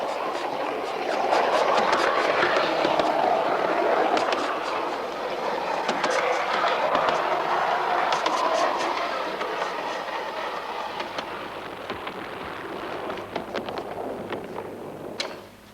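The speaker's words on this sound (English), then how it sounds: "So let's go back to the good old British double-decker rumbling along and give it another whirl." Model British double-decker tram rumbles along a track with a steady rolling clatter and rapid clicking, loud and continuous before easing off toward the end.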